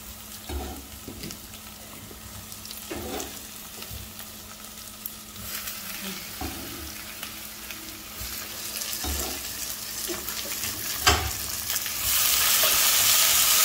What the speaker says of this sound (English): I'm going to add the tomatoes.